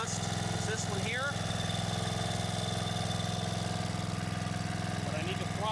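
A restored log splitter's small engine idles with a steady, rhythmic chug while its high-speed fuel screw is adjusted, with a voice talking over the running engine.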